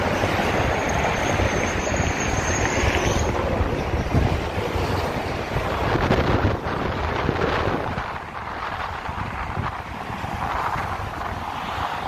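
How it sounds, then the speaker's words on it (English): Strong wind blows at night on a Santa Rosa street, roaring gusts buffeting the microphone with a heavy rumble that eases somewhat toward the end, with no speech. "the wind is really blowing tonight"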